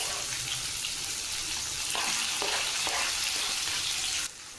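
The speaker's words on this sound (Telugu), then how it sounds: "మసాలా దినుసులన్నీ వేగిన తర్వాత సన్నగా కట్ చేసుకున్న పచ్చిమిర్చి, ఉల్లిగడ్డలు వేసుకొని వేయించుకోవాలి." Green chillies and onions frying with whole spices in chicken gravy, a steady broadband sizzle that swells slightly midway and drops off near the end, with no talking.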